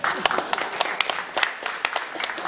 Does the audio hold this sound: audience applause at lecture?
yes